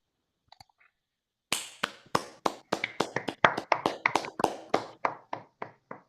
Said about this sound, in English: give a round of applause for the speaker